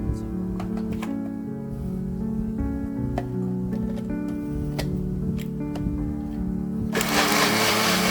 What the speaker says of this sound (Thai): แล้วเรามาทดสอบเครื่องปั่นดูกันครับ